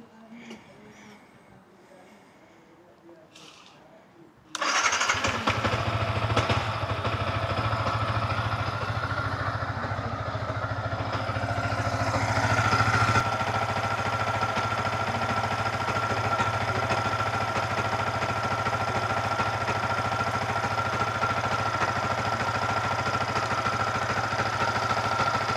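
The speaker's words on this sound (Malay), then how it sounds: "Kita kena start motor." A Yamaha MT15 motorcycle engine with 40,000 km on it kicks into life and settles into a steady, rumbling idle that runs on continuously at close range.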